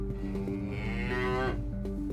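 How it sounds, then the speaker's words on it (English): Cow loose on the roads near the North Kent coast giving one long, drawn-out moo that rises and falls, fairly close, over a steady low engine-like hum. "Paramedic Dan and Special Sergeant James have located the cow causing havoc around Kent's roads."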